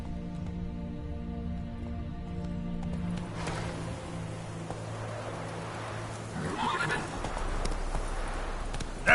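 Roach, a horse in the Witcher 3 video game, clip-clops steadily at a trot and then lets out a clear whinny near the end, with a low ambient drone underneath.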